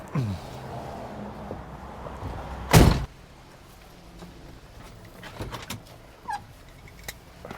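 A short, loud creak of a door hinge, followed by quieter room noise and a few faint squeaks.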